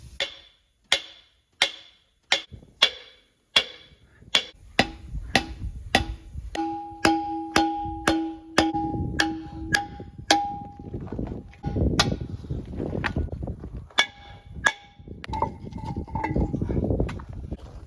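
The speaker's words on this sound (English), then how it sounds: "I'm just going to try and hit the drum off" A hammer strikes a brake drum again and again in a steady rhythm, each blow sharp with a brief metallic ring, giving way to rumbling clatter.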